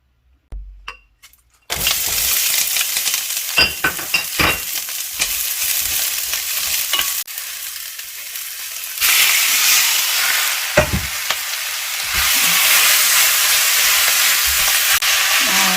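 Steady, loud sizzling of pork frying in oil in an 11-inch Saladmaster skillet, continuous broadband crackle with occasional clinks and stirring noises, no talking.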